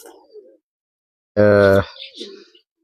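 Salara pigeons, a new adult pair, give a single strong cooing call in a loft, loud and close, with faint softer murmurs before and after.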